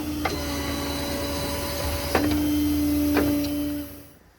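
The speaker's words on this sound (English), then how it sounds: "We'll suck the outriggers back up." Hydraulic outriggers of a Stellar 7621 crane on a 2018 Ford F550 service truck retracting, a steady mechanical whine and hum with a few clunks and a pitch shift midway, fading out at the end.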